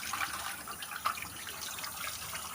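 Tap water runs steadily into a kitchen sink while raw chicken is washed with salt and lemon, a soft continuous splashing with a few brief gurgles, close by and with no talking.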